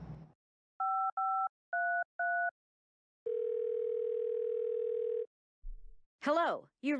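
Thimbleweed Park video game phone: four crisp touch-tone dialing beeps in quick succession, then a steady dial tone held for about two seconds, followed by a voice speaking at the end.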